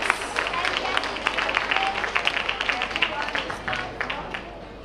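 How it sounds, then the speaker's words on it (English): A crowd at a school graduation ceremony claps and cheers together, a steady wash of applause with a few louder claps standing out, fairly close and continuous throughout. "Another round of applause for class of 2026."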